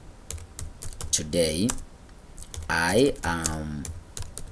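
Key clicks on a computer keyboard in a Microsoft Word lesson, a quick irregular patter of taps running under a voice, which speaks in short bursts over the typing.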